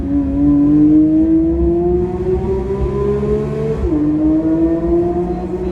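A Porsche 992 GT3 engine, redlining at 9,000 RPM, climbs steadily in pitch in first gear, drops briefly as it shifts, then climbs again, loud and close with an enclosed tunnel echo.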